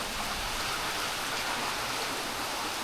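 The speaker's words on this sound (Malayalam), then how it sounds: "കണ്ടോ, നല്ല മഴ, നല്ല കാറ്റ്." Heavy rain, driven by wind, pours down over a village in an even, dense hiss that fills the whole stretch without a break and without any voices.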